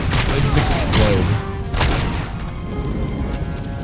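Enemies blowing apart in the RoboCop Rogue City game amid loud booming blasts and bursts of gunfire, heavy impacts for the first two seconds, then a quieter rumbling tail.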